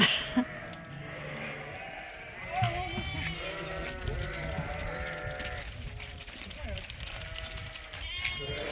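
Sheep bleat repeatedly on a farm as the flock is herded and moved along, several overlapping calls near and mid-distance, with a person's voice and some movement noise mixed in.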